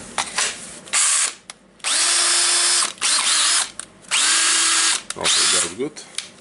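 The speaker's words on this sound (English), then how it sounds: "So now we need to screw the screws." A DeWalt DCD776 18V cordless drill drives screws into its own reassembled casing, running in several loud bursts of a second or so each. Short pauses separate the bursts, and some quick clicks come between them.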